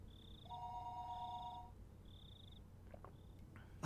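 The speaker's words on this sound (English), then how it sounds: "the phone began to ring again." A telephone rings in the Higurashi visual novel game, a faint electronic trill in short repeated bursts set against a quiet, low background hum.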